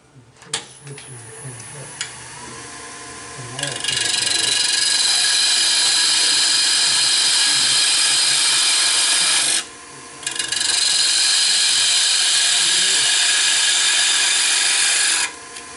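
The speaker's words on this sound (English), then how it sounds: "I can create that tenon now at the right size, again with just with a parting tool" A parting tool cuts a tenon on wood spinning on a lathe during a woodturning club demonstration for a wig stand, making a loud, continuous, close hiss that stops briefly partway through and then resumes, with faint talk beneath at the start.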